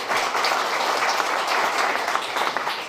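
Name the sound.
audience applause for panelists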